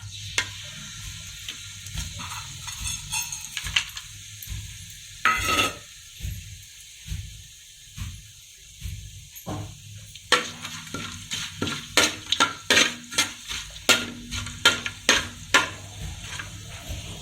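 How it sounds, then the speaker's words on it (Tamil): Bay leaf, star anise, cinnamon, cloves and cardamom hitting hot oil for mushroom biryani, a loud burst of sizzle followed by repeated clinks and scrapes of a spoon against the pot, the crackling growing busier near the end. "ஆயில் நல்லா ஹீட் ஆனதுக்கப்புறமா பிரிஞ்சி இலை, அந்த ஸ்பைசஸ் ஃபுல்லாக நம்ம ஆட் பண்ணிக்க போகிறோம்."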